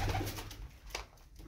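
Unusually large pigeons coo softly in low, throaty bursts against a faint outdoor background, with a brief rustle partway through.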